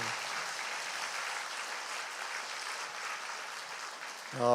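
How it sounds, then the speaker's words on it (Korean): A church congregation at a Sunday worship service applauds the Zion choir, an even, fairly faint wash of clapping heard alone that swells slightly just before it ends. "우리 한번 박수 한번 해주시죠."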